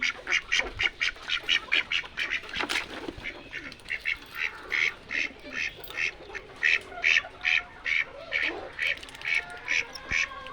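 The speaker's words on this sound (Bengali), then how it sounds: "হাঁসগুলোরও ছেড়ে দিলাম" Farmyard ducks, just let out of their pen in the morning, quack in a steady run of short, loud, nasal calls, one after another over several seconds, with faint background noise beneath.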